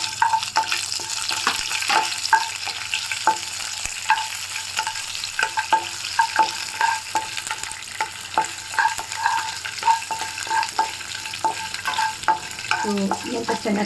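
Curry leaves and green chillies frying in oil for semiya upma, a bright continuous sizzle with regular clicks and taps of a spoon against the pan, close and loud, with no speech.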